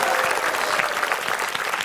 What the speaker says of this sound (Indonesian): Tepuk tangan dulu buat peserta kita dong